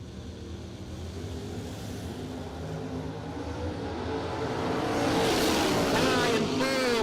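Two Chevy II drag race cars run side by side at a drag strip, their engines roaring in from a distance and building sharply louder toward the end, with a faint voice underneath.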